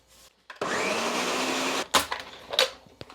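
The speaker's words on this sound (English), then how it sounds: "If you're using a blender like me" A blender whirs at full speed for over a second, mixing crumbly homemade cheese cracker dough before water is added, then stops, followed by a few clunks and knocks as the jar is handled.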